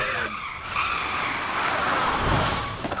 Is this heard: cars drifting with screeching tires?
yes